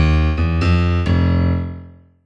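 Blues piano left-hand octave bass notes in F striking in a short half-step pattern, a few low struck tones landing about half a second apart, then ringing out and fading alone.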